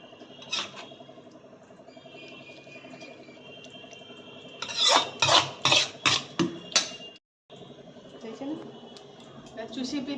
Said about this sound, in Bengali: এবার আমি গ্যাসটা বন্ধ করে ঢেলে নেব।